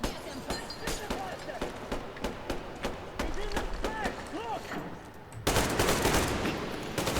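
Rapid bursts of automatic gunfire and single shots in the video game Metro: Exodus, loud and close, cracking in an uneven rhythm over several seconds before a denser, louder stretch of firing and noise near the end.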